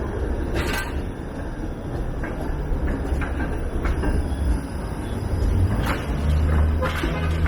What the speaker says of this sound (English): That's the 505 Dundas streetcar, which runs down Broadview Avenue.